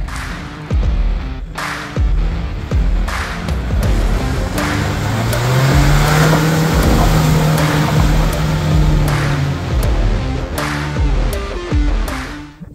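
A loud Opel Frontera engine revs and labours off-road, with heavy thumps and knocks from the chassis over rough ground, the engine note rising and sustaining in the middle, close up.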